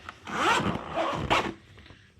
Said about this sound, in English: These zippers back here on the back, these will zip all the way down on both sides